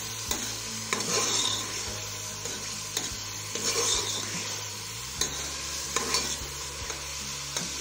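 Ingredients for a Kashmiri black chickpea pulao are stirred and roasted in a hot pan, producing a steady sizzle with repeated scraping strokes of a spoon close by.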